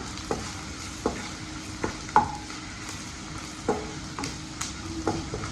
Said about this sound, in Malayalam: നന്നായി അതിൻ്റെ പച്ചമണം മാറുന്നത് വരെ അതിനെ നന്നായി മൊരിച്ചെടുക്കുക